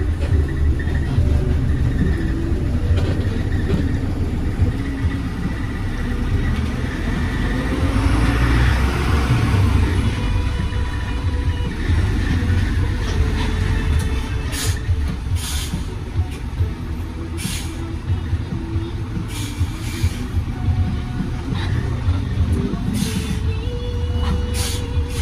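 A Harapan Jaya medium city bus in Jakarta arrives and parks at five in the morning. Its engine gives a loud, steady low rumble throughout, with a few brief hissing bursts like air brakes and no talking.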